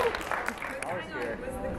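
Audience clapping at a convention panel, a brief patter of applause from a crowd underneath someone talking close to the microphone, with light crowd murmur.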